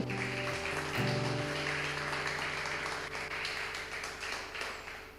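A church congregation applauds as a soft, continuous wash of clapping beneath sustained organ or keyboard chords, fairly distant and gently fading near the end.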